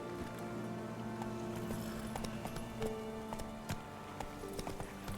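Roach, the horse in Witcher 3, gallops in with a steady clip-clop of hooves over continuous game ambience, fairly close and moderately loud, with no one talking.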